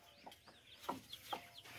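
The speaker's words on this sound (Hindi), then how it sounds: "मुर्गी देखे कितनी प्यारी और कितनी VIP मुर्गी है, डर रही है बस बाहर आने से" A hen clucks softly in a coop on a farm in Punjab, giving a few short, fairly faint clucks at irregular intervals.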